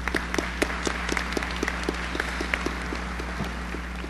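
An audience at a conference general session claps scattered and steady throughout, with individual claps standing out over a constant low hum.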